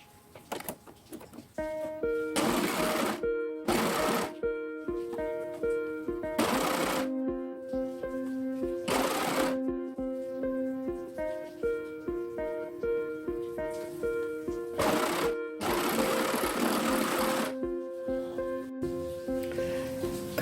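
A sewing machine stitches the fly pieces of boxer shorts in several separate bursts of rapid, whirring needle strokes, with quiet pauses and small handling noises between runs.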